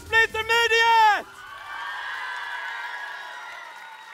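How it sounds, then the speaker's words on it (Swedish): A convention audience applauds cosplay contestants at NärCon Expo Södertälje 2024; a loud voice calls out for about a second, then steady, moderately loud clapping and crowd noise fills the rest. "En till applåd för Cosplay Intermediate!"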